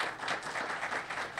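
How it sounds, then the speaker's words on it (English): Audience applause at a community gathering in Dunkirk, NY for a senior center, a steady wash of clapping from a crowd, continuous and moderately loud throughout. "A round of applause."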